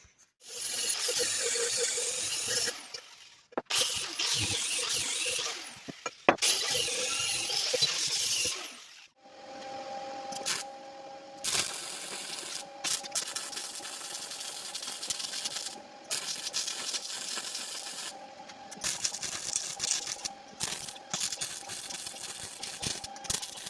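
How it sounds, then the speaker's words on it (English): Arc welding small spacers onto a car trailer hitch in a shop, a steady crackling buzz running in several long bursts separated by brief pauses, fairly close and loud with no talk. "let's get on this trailer hitch and see if I can get these little spacers welded down here."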